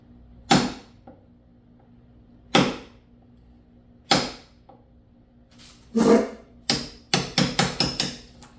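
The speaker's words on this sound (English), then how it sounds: "I believe I should be able to pop it out of there just using a punch." A punch is hammered to knock old rivets out of a Yamaha Waverunner rear corner rub rail cap, with single sharp metallic strikes spaced a second or two apart, then a quicker run of five or six blows near the end.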